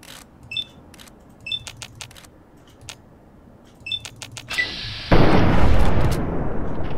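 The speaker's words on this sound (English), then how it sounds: "Do the hunting rifle for now." Hunting rifle fire in Fallout 3: sharp, separate single shots with a tonal ping, spaced about a second apart, then a louder sustained roar of noise toward the end.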